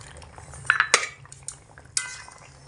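A spoon scrapes and clinks against a metal pot a few times while fried lentil dumplings are stirred gently into a thin potato-and-eggplant curry; brief, close clatters with a quiet pause between.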